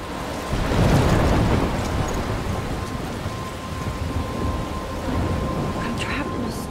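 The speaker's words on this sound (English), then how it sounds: "I'm trapped in a storm?" A video game thunderstorm near a lighthouse, with heavy rain pouring steadily, a rolling thunder swell early on and a thinner burst later, loud and unbroken with no speech.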